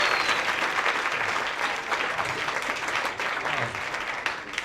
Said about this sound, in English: Let's give Davin a round of applause.